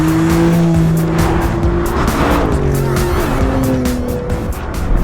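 A Porsche GTS laps a race circuit behind a 911 Turbo S, its engine droning loudly with shifting revs and tire squeal as it corners at speed.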